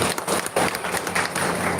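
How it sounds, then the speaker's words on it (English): An audience at a Konyak Aoleang festival celebration in Kerala claps together in a dense, steady wash of applause lasting under two seconds, fairly loud and close throughout. "Clap once more for it"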